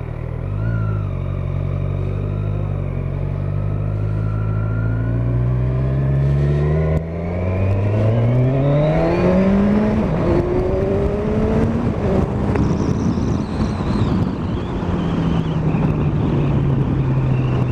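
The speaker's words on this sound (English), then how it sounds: "very short, brief ride on the Z1000SX" A 2016 Kawasaki Z1000SX motorcycle rides close by, its engine rising through revs in several climbing sweeps and then settling to a lower steady pitch, with wind buffeting throughout.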